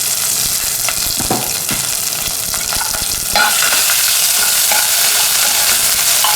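Green chili, ginger and garlic fry in a little leftover oil, giving a loud, steady sizzle close by, with spoon stirring scrapes that grow slightly louder partway through.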